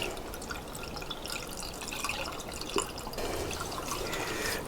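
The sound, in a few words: liquid poured into Kawasaki GTR1000 engine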